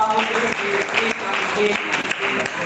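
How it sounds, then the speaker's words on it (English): Audience applause at a live online networking session for a speaker, a dense steady wash of clapping throughout with some voices mixed in. "Please let's clap"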